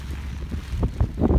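Gusty wind in rainy weather buffets the microphone in low, rumbling bursts that swell and fade over a second or so.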